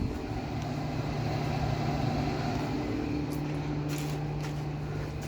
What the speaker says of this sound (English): So that's the radiator fans on. Hopefully you can hear them at the front of the car here.